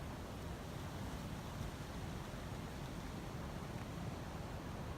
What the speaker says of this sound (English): Yeah, you can hear the ocean over here.